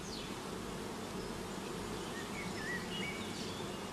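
A strong honeybee colony being shaken out into a swarm during beekeeping gives a steady, dense buzzing hum throughout, with a few faint bird chirps drifting in the background.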